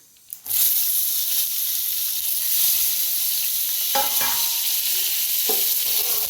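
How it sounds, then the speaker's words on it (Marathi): Five slit, deseeded green chillies hit a hot pan after a short quiet moment and a single clunk, then sizzle loudly and steadily, with a few sharp spits and pops. "तर पाच मिरच्या घेतल्या त्या भाजून घेऊया"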